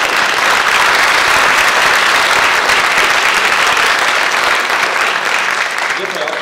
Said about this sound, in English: I did want a round of applause for our speakers today.